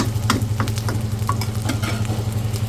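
Prawns frying gently in a pan over a low flame, a close, even sizzle with a steady low hum and soft crackles, no voices.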